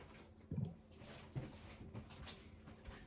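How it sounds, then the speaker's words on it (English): Hands being rinsed and rubbed in a basin of sanitizing water while making mead, giving soft splashes and trickles in a few bursts, close and fairly quiet. "And now I'm going to wash my hands."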